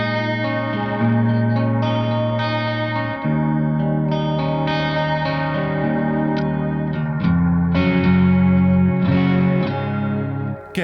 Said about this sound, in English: It sounds a bit more like a chorus.